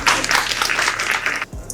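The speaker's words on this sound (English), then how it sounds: "A round of applause." An audience gives a round of applause at an event, a dense, close burst of clapping lasting about a second and a half before cutting off to quiet.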